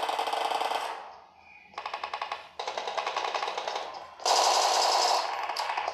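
Rapid automatic gunfire in the PUBG Mobile game, played on a Nubia Red Magic 7S Pro phone: several loud, close bursts of fast repeated shots separated by brief pauses, with no talking.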